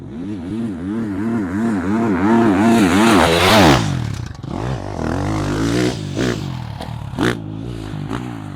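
A dirt bike rides supercross whoops in second gear, its engine loud and close, surging up and down in a quick rhythmic warble over each bump, then easing off with rattles and scrapes.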